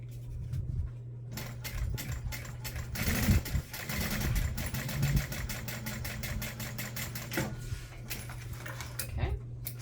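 A sewing machine topstitches a bag, running in steady bursts up close with a low hum, interrupted by clicks and handling knocks, then falling quiet.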